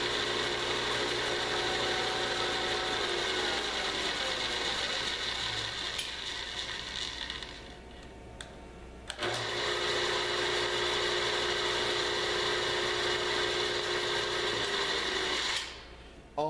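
A milling machine runs a tap into holes in a part, giving a loud steady mechanical whir with geared hum that dips briefly, then resumes before cutting off near the end.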